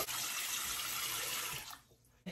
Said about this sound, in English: So come to the sink with me, I'm gonna rinse it all